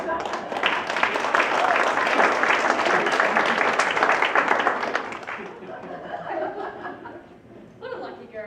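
Applause from a dinner theatre audience during a live children's show of Charlie and the Chocolate Factory, dense and near for about five seconds with chuckles mixed in, then thinning out as scattered claps trail off.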